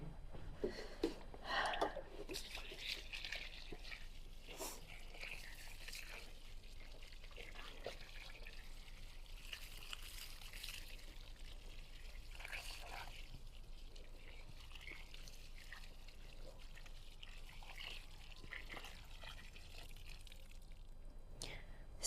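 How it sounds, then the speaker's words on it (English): Water poured onto a large arborescens hydrangea, around 10 to 11 liters, splashing and trickling steadily at moderate loudness with intermittent drips throughout, alone without voices. "So now it's time to water a plant."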